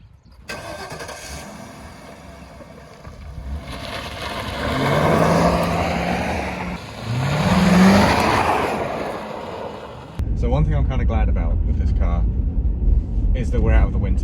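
A P7B Ford Crown Victoria Police Interceptor V8 revs and accelerates, the engine rising in two louder surges before settling into a rumbling idle, with someone talking over it throughout.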